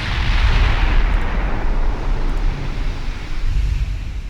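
Battleship forward turrets firing in Ultimate Admiral Dreadnoughts, a fast Bismarck, as a continuous heavy rumbling roar of naval gunfire that stays loud and dense throughout.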